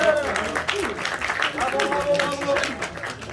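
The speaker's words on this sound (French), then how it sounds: "On peut l'applaudir." Audience at a Dragon Ball fan event in Lausanne applauds, scattered clapping and crowd noise mixed with voices and cheering throughout.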